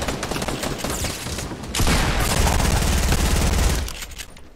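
Gunfire from Fortnite, including a hunting rifle, plays as rapid, dense bursts of shots. A sustained louder barrage runs through the middle before it tapers off.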